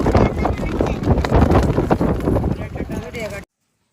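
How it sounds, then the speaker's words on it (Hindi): Strong wind on a beach buffets the microphone in a loud, continuous roar that carries sand along, then cuts off abruptly near the end. "यहाँ पे इतना तेज हवा है कि आपको हर तरफ रेत ही रेत दिखेगा उड़ते हुआ"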